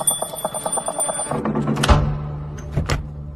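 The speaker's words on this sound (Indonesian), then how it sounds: "Helena mendengar lonceng parameter berbunyi" Perimeter alarm bell set up around a house rings in rapid repeated clangs for over a second, followed by a few heavy thuds and clanks close by.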